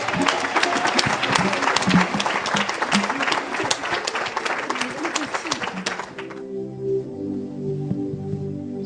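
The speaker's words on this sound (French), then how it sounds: "Si vous êtes d'accord, acclamez pour Jésus." A church audience applauds and cheers loudly at a celebration, dense clapping and crowd noise for about six seconds before breaking off into a quieter tonal background.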